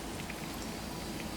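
A pot of wool in ammonia water simmers with a soft, constant bubbling patter, like light rain, heard alone at low volume.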